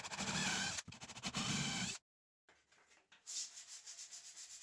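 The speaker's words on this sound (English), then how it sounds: "I then sanded the whole thing," Sanding of a plywood dressing table: steady, close abrasive rubbing in long strokes, broken by a brief silence, then quieter scraping before the sanding resumes strongly.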